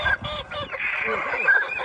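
A rooster on a forest homestead gives a hoarse, drawn-out crow, close and fairly loud, with bird calls around it.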